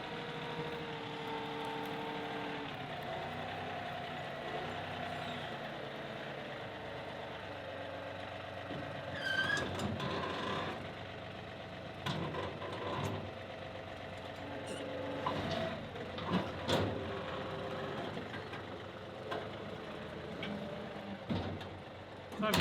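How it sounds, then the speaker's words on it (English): A tractor fitted with a brush cutter idles with a low, rumbling drone, harmonics holding level, while a few louder clunks and bursts break in near the end. "I've got the brush cutter on the tractor."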